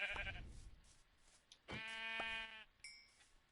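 A Minecraft sheep bleats in a survival game, with one long wavering bleat in the middle, a shorter sound at the start and a faint chime afterwards, all quiet.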